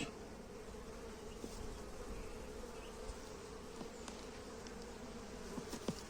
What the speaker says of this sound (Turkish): malum çerçevenin üzerinde biraz arı kaldı.